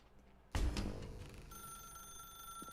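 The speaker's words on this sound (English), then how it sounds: "Now pick up the phone." In The Stanley Parable video game, a telephone starts ringing abruptly and loudly. An electronic tone then sustains faintly underneath, with no talking.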